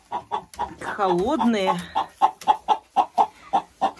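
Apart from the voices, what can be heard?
hens clucking near nests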